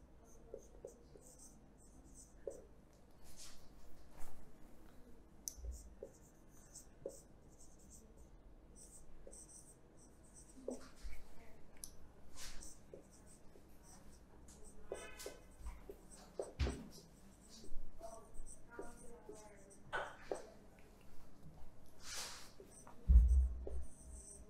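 Pen on paper while writing out steps for naming alcohols in a chemistry lesson, with faint scratchy strokes and taps coming in scattered bursts, quiet and intermittent.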